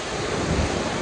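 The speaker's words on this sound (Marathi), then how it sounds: "प्रचंड आता जोरात पाऊस चाललेला आहे इकडे बाहेर" Heavy rain pours down outside near a temple, a dense, steady roar of water with no break across the whole moment.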